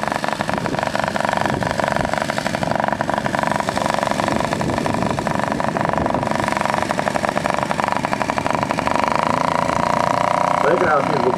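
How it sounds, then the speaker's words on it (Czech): Engine of a 1:3.8 scale Fokker D.VII model aircraft running steadily at an airfield event, a continuous buzzing drone heard fairly close, with voices talking over it. "To je krásný zvuk motoru."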